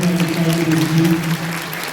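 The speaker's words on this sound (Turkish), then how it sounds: "Hadi alkışlarınıza gelsin." Guests applaud at a theatrical civil wedding ceremony in a Denizli hotel, a steady wash of clapping lasting throughout with a low murmur or music tone underneath.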